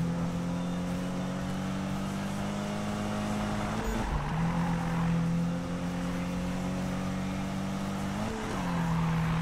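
A car engine in the Need For Speed racing game holds a steady, loud droning tone while it gathers speed, with brief dips and recoveries in pitch as it shifts, and no talking over it.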